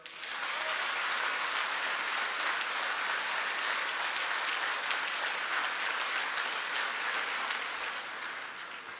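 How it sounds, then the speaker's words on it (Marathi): Audience at a political campaign rally in Barshi breaks into sustained, dense applause, a loud even roar of many hands clapping that holds for several seconds before tapering slightly at the end. "जोरदार टाळे वाजवा."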